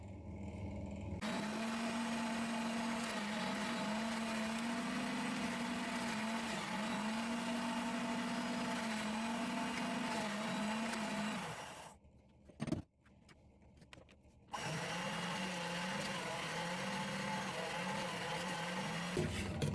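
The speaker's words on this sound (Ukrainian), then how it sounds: "Тепер молотиму сухарі." A blender motor whirs steadily and loudly, grinding dry breadcrumbs, pauses briefly with a few clunks, then starts up again.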